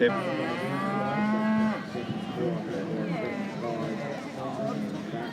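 Red Angus heifers mooing in a stud beef judging ring at an agricultural show, a long, drawn-out low moo followed by further bellows, with an announcer talking and crowd murmur beneath.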